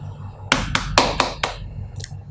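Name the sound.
hand knocking on a wall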